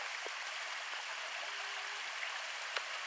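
Creek water flowing over a clay bed, a steady close rushing and babbling with a few brief splashes, no talk.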